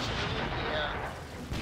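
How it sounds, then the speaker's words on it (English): Artillery fire in the World War II strategy game Blitzkrieg 3 sounds as a brief, dense, booming rumble with a faint voice in the background. "Commander, there's artillery in the city."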